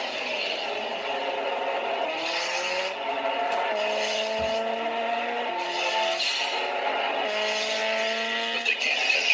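A Turbo Z car racing hard with its tires skidding and squealing, the engine note rising and falling in sustained, loud, continuous passes with no talking.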